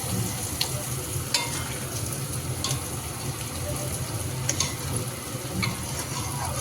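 Vegetables fry in a pan with a steady, dense sizzle and occasional scraping stirs and clicks of a spatula close by, continuing throughout without speech.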